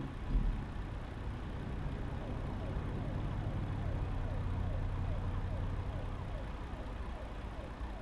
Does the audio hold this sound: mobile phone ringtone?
no